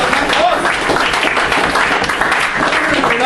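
A room of diners at a rugby club jumper presentation night held at the White Horse, applauding in a dense, sustained round of clapping, loud and close, with voices mixed in.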